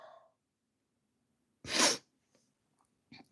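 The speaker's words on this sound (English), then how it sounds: "Oh, I'm going to sneeze." A single human sneeze after a quiet pause: a short breathy intake, then one sharp, loud burst, followed by faint sniffs and a soft exhale, indoors and close.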